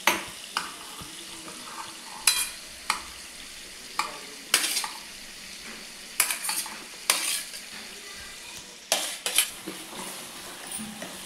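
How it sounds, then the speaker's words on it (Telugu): Tomatoes fry in a pan, with a low sizzle under repeated sharp clinks and scrapes of a utensil stirring against the pan, coming in irregular bursts. "టమాటాలు ఫ్రై అవుతున్నాయి."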